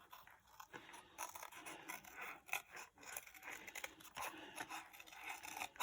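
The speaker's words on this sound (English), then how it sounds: "I'm just going to cut around this quickly." Scissors snipping and scraping through paper, cutting around a shape for a watercolour Christmas mini album; a steady run of close, soft crisp cuts and rustles with no talking.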